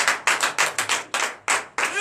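Rhythmic clapping from a church congregation during a Sunday worship service in Comè, Benin, with sharp, regular beats roughly every quarter second, fairly close and loud, with a voice faintly under the claps at the end.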